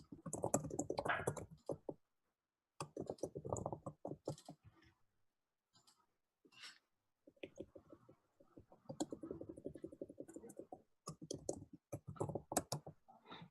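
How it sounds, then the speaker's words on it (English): Bursts of rapid typing clatter on a computer keyboard, separated by quiet pauses, crisp and close with no voices. "I'm typing them right now"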